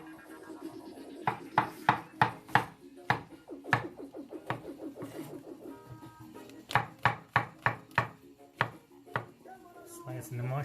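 Peeled onions being chopped into wedges with a knife on a board, giving a brisk series of sharp, close cuts in bursts with short pauses between them.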